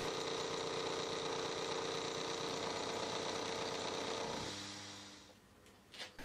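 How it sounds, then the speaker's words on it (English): A milling machine rough cuts connecting rods held in a machine vise with a slot drill, a steady loud grinding whine that runs evenly then winds down and fades into quieter clatter near the end. "So I clamp the rods into the machine vise and use a slot drill to rough cut"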